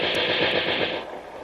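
A machine gun fires a short burst of rapid rounds, loud and sharp, with the shots running together before breaking off abruptly; no voices.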